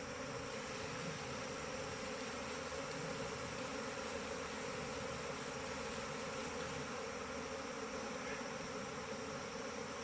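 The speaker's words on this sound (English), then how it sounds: "Are you getting how many bees this is?" A swarm of bees hums around a tree in a dense, steady drone that holds at an even, moderate level throughout, with no voices.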